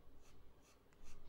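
A Schneider BK406 fountain pen nib scratches across paper in a few faint, soft strokes, quiet and close, with no voices.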